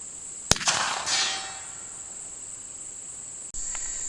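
A single sharp, loud deer-rifle shot cracks out and then decays, with a steady insect-like hiss running throughout and a faint click near the end.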